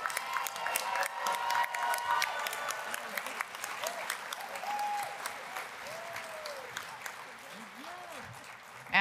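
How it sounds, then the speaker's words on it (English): At a recovery convention banquet, the room gives a speaker another round of applause, sustained clapping with some cheering. It stays moderately distant, and faint voices and a few tonal sounds rise through it. "Let's give her another round of applause"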